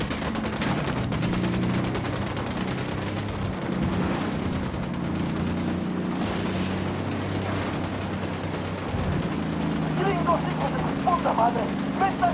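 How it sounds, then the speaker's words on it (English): Rapid gunfire bursts rattle through a tactical shooter game, Ghost Recon Wildlands, alongside a steady droning background, with someone talking over the shooting throughout. "I'm shooting these fuckers."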